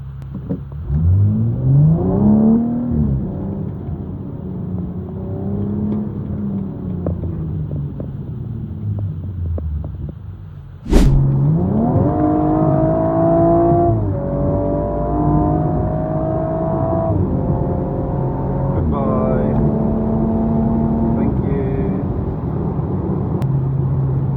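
A BMW M135i with a 2-litre engine, gearbox in comfort mode, accelerating hard from a standstill; the engine revs climb through several quick gear changes with a loud, steady roar heard from inside the cabin.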